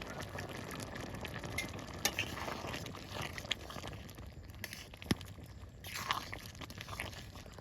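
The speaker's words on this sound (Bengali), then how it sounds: "এবার তরকারির মধ্যে টমেটোটা দিয়ে দেবো।" Tomato stirred into a frying mixed vegetable curry in a home kitchen pan, a soft steady sizzle under scraping stirring strokes and a few sharp clinks of the spatula, close by, with no talking.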